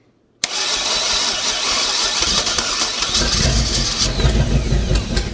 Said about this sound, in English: Ah, this engine runs.